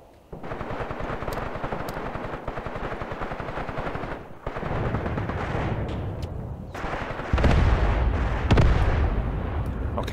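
Artillery guns firing in the war game Graviteam Tactics: Mius Front, a dense, continuous barrage of rapid booming shots and rumbling impacts, loud and sustained with brief gaps and heavier bursts toward the end.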